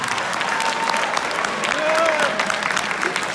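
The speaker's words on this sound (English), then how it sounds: "let's give them a quick round of applause" A school senior meeting crowd gives a quick round of applause for students, steady clapping from many hands filling the room for a few seconds with faint voices mixed in.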